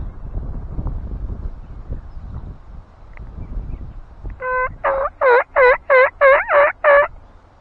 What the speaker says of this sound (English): Just saw a hen. She walked right by me.